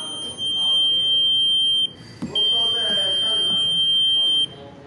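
A conventional horn strobe driven by an addressable fire alarm control module sounds a steady, piercing electronic tone that cuts off briefly near the middle and then resumes, over a low background hum.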